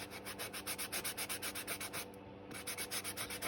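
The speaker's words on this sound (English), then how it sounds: "So I just sanded them smooth with my sanding block." Steady back-and-forth scraping of a sanding block with sandpaper over chipwood pieces, a quick regular rhythm of rubbing strokes, close and continuous.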